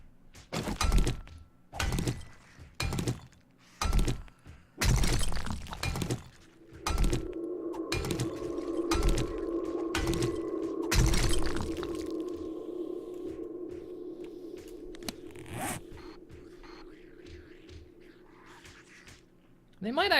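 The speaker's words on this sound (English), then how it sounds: "They might be smashing that rock." In the survival game 7 Days to Die, a rock is smashed with a run of heavy, hard thunks for the first several seconds, followed by a lower droning hum with a few scattered knocks.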